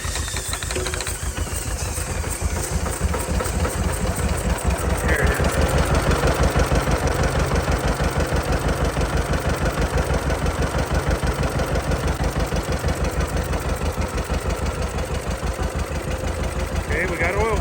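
The engine of an 83-year-old John Deere B tractor idles right after its first start, a loud, close, steady rapid chugging with a knocking beat that runs throughout, with a voice speaking over it.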